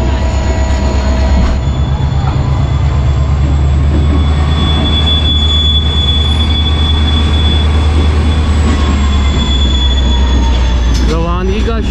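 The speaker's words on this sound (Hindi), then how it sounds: "28 डाउन शालीमार एक्सप्रेस अब रोहड़ी जंक्शन रेलवे स्टेशन से रवाना हो रही है।" Shalimar Express train pulling away from Rohri Junction railway station, a loud steady rumble of wagons and wheels with a sustained high wheel squeal running through, recorded from on board without a pause.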